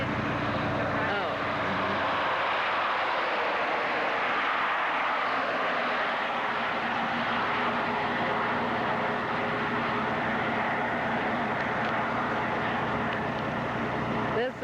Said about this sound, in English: This is a plane, must be spraying the potato fields.